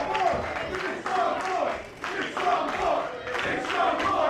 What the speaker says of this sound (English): You can hear the new guys leading the chant with the crowd.